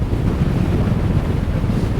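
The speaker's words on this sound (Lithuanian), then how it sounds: "mane jau irgi neša vėjas" Strong wind roars across a seaside beach with blowing sand and spray, buffeting the microphone in a loud, continuous low rumble that dominates everything, with surf blended in and no speech.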